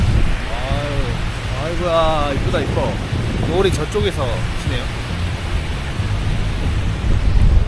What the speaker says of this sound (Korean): 서해 바다 소리.